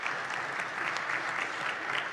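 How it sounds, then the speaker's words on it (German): Brief, soft audience applause welcoming a panel at a discussion on the digital energy transition, a steady patter of many hands heard from a distance. "einen netten Applaus für Sie."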